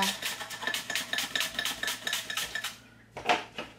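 Four red onions and two garlic cloves are grated straight into a pan, giving a steady run of rapid rasping strokes that stop briefly, then resume for a couple of short scrapes.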